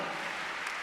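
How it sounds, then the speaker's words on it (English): Congregation at a church testimony service clapping together, a dense, steady wash of applause filling the short moment without a break. "Give Jesus a clap offering."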